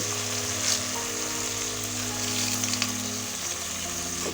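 Ripe tomatoes with rock salt fry in a pan with a constant, dense sizzle and a low steady hum underneath, close and even throughout, with no voices.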